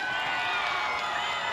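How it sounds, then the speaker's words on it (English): Vanuatu fans clapping and cheering in the stands at an under-20 football match against Fiji, a dense, distant crowd roar throughout. "You can hear the applause of the Vanuatu fans."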